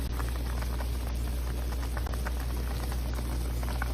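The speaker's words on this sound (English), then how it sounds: "we got our meat coming to a boil" Meat simmering to a boil in a pot of broth, a steady low bubbling hiss with soft irregular pops throughout, continuous and close.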